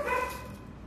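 A dog gives one short, high yip or bark at close range that fades quickly into a quiet room, with no talk over it.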